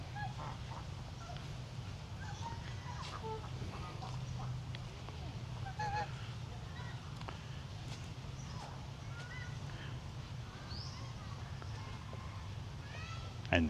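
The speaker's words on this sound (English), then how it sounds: "I don't think those are swans. I think those are geese." Geese at Angkor Botanical Gardens give scattered honks and squawks at a moderate distance over a steady low background hum, with quiet voices nearby.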